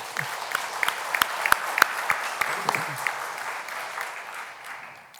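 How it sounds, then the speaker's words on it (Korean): A church congregation at a Sunday worship service applauds the choir, a fairly soft wash of clapping with a few crisp, louder claps standing out before it thins and fades. "격려의 큰 박수를 보내주시기 바랍니다"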